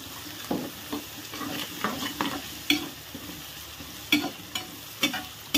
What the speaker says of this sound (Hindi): नेक्स्ट हरी मिर्च डालेगा